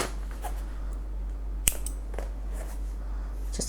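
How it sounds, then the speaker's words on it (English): Scissors snip through crochet yarn at the end of a row. One sharp, close cut stands out among soft handling clicks and rustles over a low steady hum. "And then I'm going to get my scissors,"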